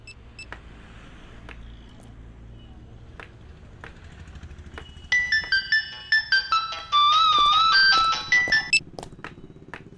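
A mobile phone ringtone plays from about five seconds in, a bright repeating electronic melody in short bursts, fairly loud over a low background hum.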